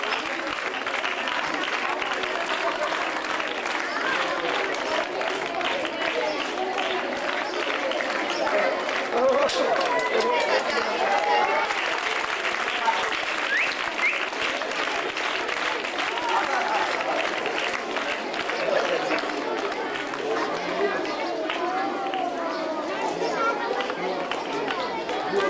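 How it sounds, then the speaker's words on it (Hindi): An audience applauds at a school prize-giving, sustained clapping running for nearly half a minute with crowd chatter and a voice speaking over it, footsteps moving through the hall. "आप सबकी भरपूर तालियों में"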